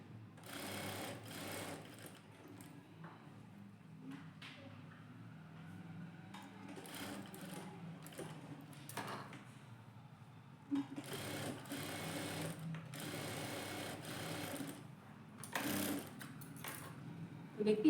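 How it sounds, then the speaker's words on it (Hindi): A sewing machine runs a straight stitch attaching a border to a blouse sleeve, whirring close by in repeated bursts of varying length separated by brief quiet gaps. "इस तरह से सीधी सिलाई लगा देंगे यहाँ पर।"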